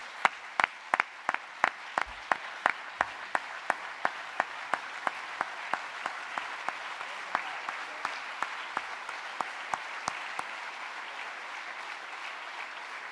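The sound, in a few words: crowd applause for new IFSO president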